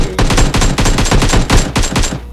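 Rapid automatic gunfire in the mobile battle-royale game PUBG Mobile, a loud close burst of about a dozen shots in quick, slightly uneven rhythm, heard alone without talk.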